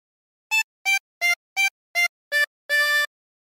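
The Squid Game theme on a 16-hole tremolo harmonica: six short, evenly spaced reedy notes, then one longer held note, played alone and clear.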